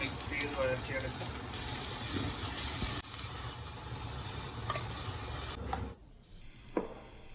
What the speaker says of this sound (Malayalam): നന്നായിട്ട് മിക്സ് ചെയ്ത് വഴറ്റിയെടുക്കാം.